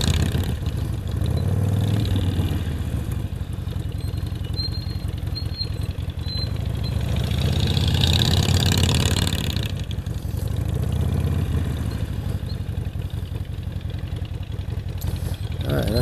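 A motorcycle engine hums nearby while it circles cones in a moto gymkhana drill, swelling and easing in gentle revs as the bike loops around, with no talking over it.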